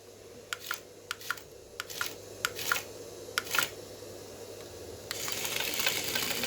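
A small RC scorpion toy's motor whirs in short, repeated bursts as it drives and spins, with faint clicking between runs. A steadier buzzing run comes at the end.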